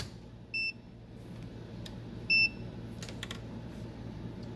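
Multimeter in diode-check mode on a Behringer iNuke NU3000 amplifier power section, giving two short, clear electronic beeps over a low hum, with faint clicks of probes between them.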